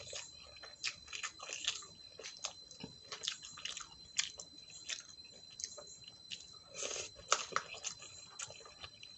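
Close, wet chewing and biting of spicy Korean-style Mie Sedaap instant noodles, soft squishy bites and slurps coming in an irregular rhythm over a quiet background.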